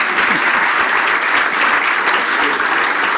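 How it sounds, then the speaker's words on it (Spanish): An audience claps steadily and loudly, a dense wash of applause that holds evenly throughout with no talking on top. "Yo le daría el primer aplauso."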